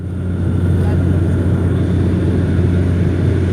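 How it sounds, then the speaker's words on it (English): Steady, loud cabin drone of a SpiceJet Bombardier Dash 8 Q400 turboprop in flight, a deep constant propeller hum with broad rushing air noise and no change in level. "the noise levels of Bombardier Q400s"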